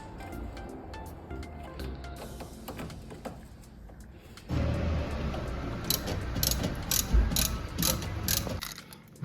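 A ratchet wrench clicking while a Nissan car's battery is replaced, with quick bursts of close ratcheting amid clanks and handling noise, and faint voices in the background.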